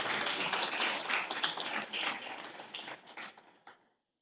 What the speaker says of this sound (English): let's welcome her with a nice round of applause